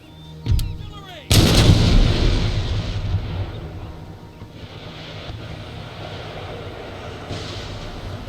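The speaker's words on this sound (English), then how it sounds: "That cannonball bounced into their lines." Cannon fire in the video game Empire: Total War, with a sharp report followed by a heavier booming blast that rolls out into a long, fading rumble of battle noise.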